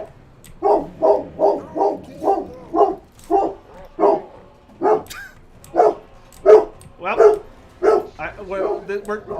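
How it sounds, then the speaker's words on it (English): A dog barks in a steady run of about a dozen loud, close woofs, evenly spaced and then slightly quicker, with a few whimpering yips near the end. "Chloe, what are you barking at?"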